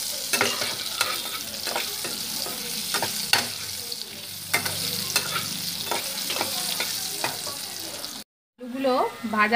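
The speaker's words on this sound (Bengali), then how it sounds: "আলুগুলোকে ভেজে নেব আলুগুলো ভাজা" Potatoes sizzle steadily in hot oil while a utensil scrapes and taps the pan at irregular intervals; the sound briefly cuts out near the end.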